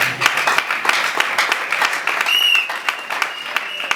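Church congregation applauding during a Sunday service, steady dense clapping throughout, fairly loud and close, with a faint voice mixed in.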